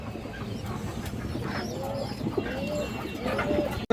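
Pigeons for sale, including red-geared females, give low cooing calls against a busy background hum, with a few faint higher chirps scattered through.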